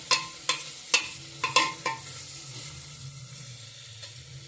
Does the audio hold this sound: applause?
no